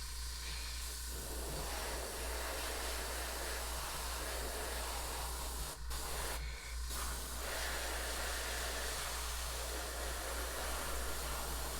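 An airbrush sprays paint onto a miniature in a steady, close hiss that runs almost without pause, broken only by two very brief gaps near the middle.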